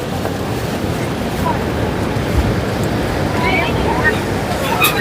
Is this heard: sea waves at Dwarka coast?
yes